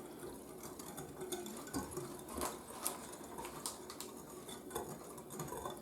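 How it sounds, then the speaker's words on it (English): A whisk stirs instant pudding mix with two cups of milk in a bowl, making a steady run of quick, light wet clicks and patters that stay close and moderately quiet, with no talking. "you're just going to take a whisk and mix that together"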